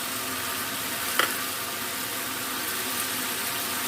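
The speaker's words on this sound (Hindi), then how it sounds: "आलू में हम अंडे ऐड कर देते हैं।" Eggs sizzling steadily in a pan over spiced, sautéed potatoes as an omelette forms for a Ramadan sehri breakfast, a continuous fry hiss with one brief clink near the start, no talk.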